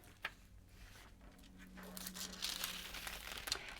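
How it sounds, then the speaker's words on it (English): Tape pulled and pressed down over cut fabric pieces, a soft crinkling and tearing with a short snap near the start, then denser rustling toward the end, close and quiet with no talk. "I'm going to tape that into place like so."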